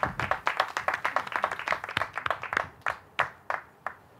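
A small group claps for a nurses' fundraising team at a charity head-shaving event: close, distinct hand claps in a quick ragged rhythm that thin out to a few scattered claps near the end.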